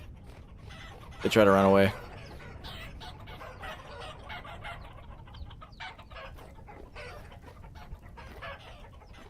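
Chickens in the survival game Vintage Story let out a brief, loud burst of squawking clucks near the start, followed by faint scattered farmyard noise while a person talks over the rest.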